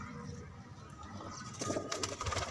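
Pigeons coo in a low, soft murmur close by, with flapping wings and brief chirps joining over the last second.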